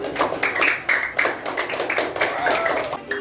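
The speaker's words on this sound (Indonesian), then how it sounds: "beri tepuk tangan untuk kelompok 2" A classroom group claps for a student presentation group, a short burst of uneven hand claps from several people with faint voices mixed in.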